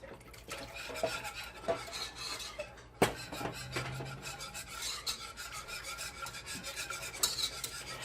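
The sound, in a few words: whisking milk sauce for mac and cheese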